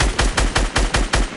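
Rapid video-game gunfire used to shoot down a tree: about seven loud, close shots in an even, quick rhythm, with no talking.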